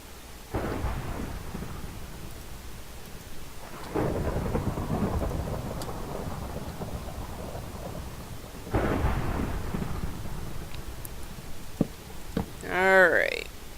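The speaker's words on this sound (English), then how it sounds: "I hear a thunderstorm nearby, so might pay to hurry" Rolling thunder from a Minecraft thunderstorm rumbles in several long bursts over steady rain, with a brief tonal chime near the end.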